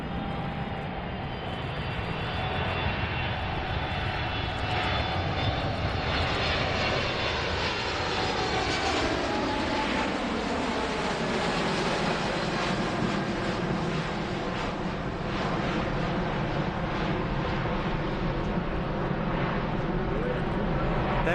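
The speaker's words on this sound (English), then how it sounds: "the newest variant of the 777 that passengers can actually fly on" A Boeing 777 jet, the newest passenger variant with larger wings and uprated engines, flies past at an air show, its loud sustained engine roar sweeping in pitch as it passes for over twenty seconds.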